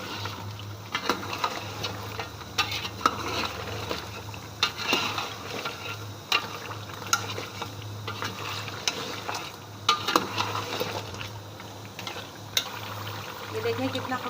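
Ground spices for nahari fry and get stirred in a pot, a soft continuous sizzle broken by repeated scraping and clinks of a spoon against the pan, close and fairly quiet, with a voice speaking at times.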